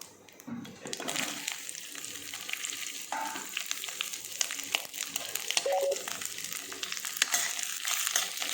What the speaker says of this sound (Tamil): அதை இதில் நல்லா போட்டு வதக்கிக்கலாம்